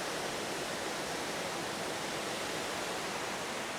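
A waterfall near Ella, Sri Lanka, heard from its base as a steady, dense broadband rush of falling water, continuous and fairly loud with no voices over it.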